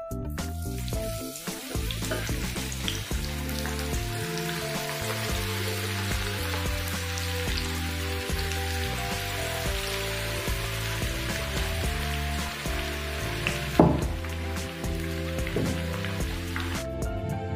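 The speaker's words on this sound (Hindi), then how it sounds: "ऑयल अच्छे से गर्म हो चुका है। अब हम इसमें थोड़े थोड़े करके कॉर्न को छोड़ लेते" Corn kernels frying in hot oil, a dense steady crackle and sizzle with scattered pops running throughout, loud and close, with no talking.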